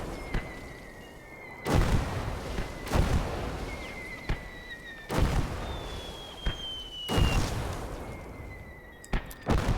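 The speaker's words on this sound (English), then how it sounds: "I really would rather you not die to your own freaking mortar strike" Mortar strike explosions in the World War II strategy game Their Finest Hour, five or six heavy booming impacts landing at irregular intervals over a steady background of battle noise and distant tones, with no talking.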